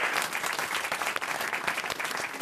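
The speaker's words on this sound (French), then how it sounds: "Et nous aussi, on vous a écouté et on vous applaudit." A studio audience at a French comedy radio show applauds, producing a dense, continuous wash of clapping at an even level with no talking over it.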